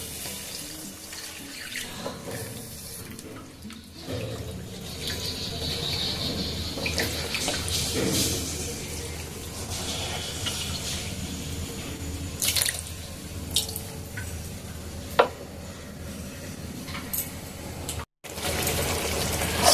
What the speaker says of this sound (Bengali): এখন আমি এখানে দিয়ে দেবো উষ্ণ গরম জল, বা ফুটন্ত জলও দিতে পারেন।